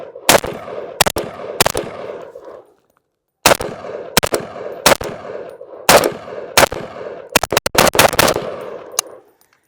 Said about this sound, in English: Yeah, she fires